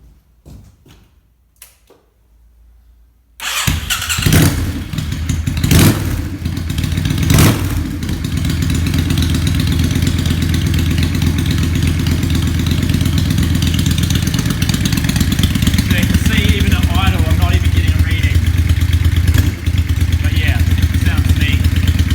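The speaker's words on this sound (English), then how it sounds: "So I can start the bike up and you can hear what this sounds like" Yamaha XV535 motorcycle fitted with drag pipes, a few clicks and a short crank before the engine catches with a sharp bark, then settles into a loud, deep, lumpy idle with occasional blips close by.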